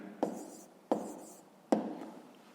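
A pen writes numbers on paper in three short, close scratching strokes, each starting with a sharp tap and trailing off, in a quiet setting without speech.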